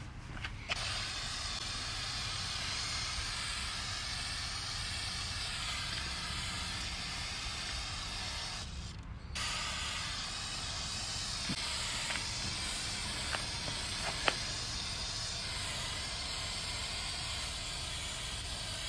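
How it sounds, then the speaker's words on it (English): Spray can hissing onto car tires, a long steady loud spray broken by one brief pause, with faint clicks near the end. "I don't know how much to spray"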